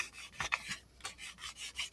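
Soft, short rasping strokes of sandpaper lightly sanding an electric guitar's wood body, several light passes in quick succession, close and quiet.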